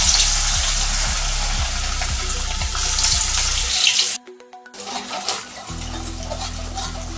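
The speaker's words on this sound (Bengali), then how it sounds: "নারকেল লাল লাল করে ভেজে নিয়েছি" Small coconut pieces fry in leftover oil in a pan, giving a continuous close sizzle that briefly cuts out and then resumes more quietly, with no voices.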